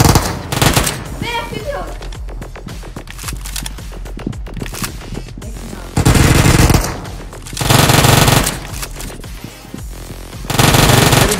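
Automatic gunfire rattles out in three loud, sustained bursts near the end, after a stretch of busier, clattering sound with some voice-like activity at the start.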